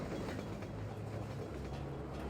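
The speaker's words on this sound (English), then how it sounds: "I hear a moving platform." A moving train platform in the Half-Life 2 video game, a continuous rumbling rail roll with soft rhythmic clatter, steady and fairly faint with no voices.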